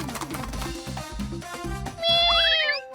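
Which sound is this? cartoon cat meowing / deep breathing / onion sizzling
cartoon cat meowing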